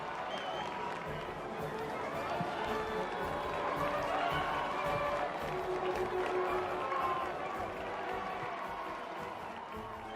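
A large crowd cheers and applauds Eckner's arrival, a dense, steady roar of clapping and shouting with chatter mixed in, heard at moderate distance throughout.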